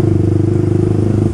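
A Kawasaki Ninja RR Mono 250 single-cylinder motorcycle idles close by, a steady, loud, rapid thumping pulse with a faint mechanical clatter.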